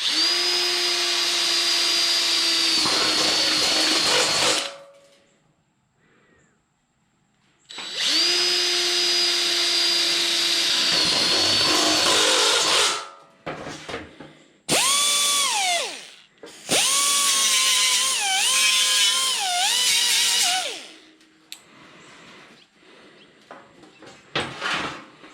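A power drill bores holes through a body panel on a classic Mustang during a mini-tub install, running in several loud bursts of a few seconds each with short pauses and pitch changes between them, no talking.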